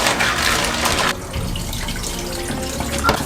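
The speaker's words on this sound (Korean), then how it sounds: "홍합에 대가리를 쪼개준 후 깨끗한 물로 여러 번 닦아주는 과정을 거치게 된다" Mussels are rinsed under a running kitchen tap, water gushing loudly at first and then splashing more softly against the shells in the sink, close and continuous.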